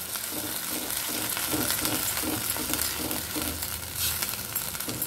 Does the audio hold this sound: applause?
no